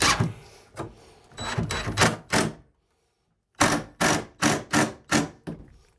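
A power drill whirs in a series of short bursts, pausing briefly, then several quick pulses as a self-drilling deck screw is driven into wood, close by.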